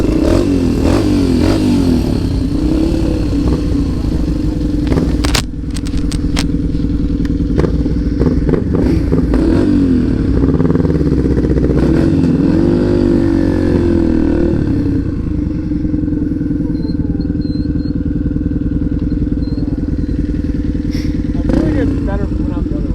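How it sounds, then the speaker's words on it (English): A motorcycle engine runs steadily at close range, idling with a few light revs and some clatter, while a rider talks over it on a rainy outing. "So my bike starts, battery's dead."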